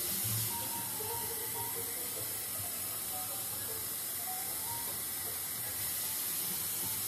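Hot water running from a tap into a small cup holding Dawn dish soap, a continuous close hiss and splash with faint background talk.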